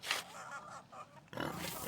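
Pigs in the video game Pentiment grunt and oink in short, soft snorting bursts, fairly quiet and close, with a brief pause before another grunt.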